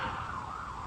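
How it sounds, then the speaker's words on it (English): A wailing siren sweeps steadily through the whole second, loud and continuous over a low rumble of traffic. "Sorry about the sirens."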